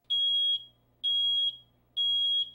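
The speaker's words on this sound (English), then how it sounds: "If you hear this sound in your home, it means that smoke is present and there may be a fire" A home smoke alarm sounds three loud, piercing, evenly spaced beeps, each about half a second long with short silences between them, heard clearly with no voices.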